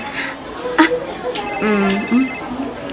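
A cellphone rings with a tonal, repeating ringtone at moderate loudness over a domestic drama scene, with voices talking around it.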